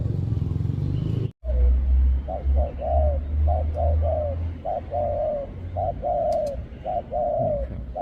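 A dove coos repeatedly in short rolling phrases, steady and fairly close, over a low engine rumble outdoors in Thailand.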